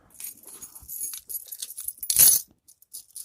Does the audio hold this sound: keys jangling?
yes